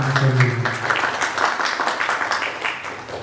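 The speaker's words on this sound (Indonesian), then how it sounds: "Kasih tepuk tangan." An audience applauds at a village youth organization leadership candidate debate in Masangankulon, a dense patter of many hands that follows a brief low voice and holds steady before easing off toward the end.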